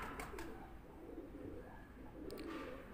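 Soft cooing of a high-flying pigeon with a couple of brief wing flutters, heard close against steady low background noise.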